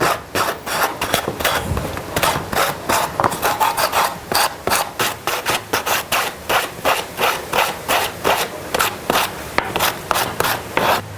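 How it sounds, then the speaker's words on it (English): Coarse sandpaper wrapped around a sanding sponge scrubs over live-edge wood slices in steady back-and-forth strokes, a close, loud, even rasping rhythm that repeats about twice a second with no talk. "I'm just going to run a coarse sandpaper rolled over a sanding sponge over everything real quick"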